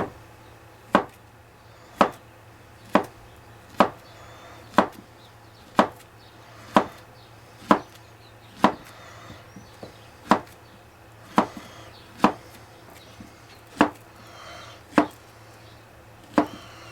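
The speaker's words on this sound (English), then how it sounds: "We're going to slice up 2" Knife slicing bananas on a cutting board, a steady series of about seventeen sharp, evenly spaced chops roughly one second apart, close and clear over a faint low hum, with no talking.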